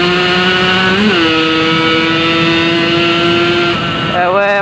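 A motorcycle engine drones steadily at about 80 km/h, loud and close, with its pitch dipping and rising briefly as the rider shifts gears.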